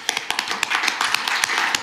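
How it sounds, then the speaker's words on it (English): Board meeting attendees applaud in a room: a dense patter of many close, overlapping hand claps that runs steadily with no talking. "Round of applause."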